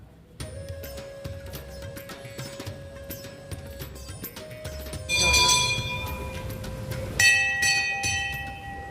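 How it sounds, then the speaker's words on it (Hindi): A train rumbles past close by a Shani temple while bells ring repeatedly over it, with sharper metallic ringing bursts toward the end. "पूरा पास में ही ये ट्रेन जाता है"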